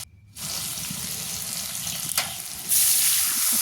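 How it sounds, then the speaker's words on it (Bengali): Water is poured into spices frying for a chicken curry, a steady rushing pour rising to a louder sizzling splash toward the end, with no talking. "পানি দিয়ে দিলাম মশলা কষানোর জন্য"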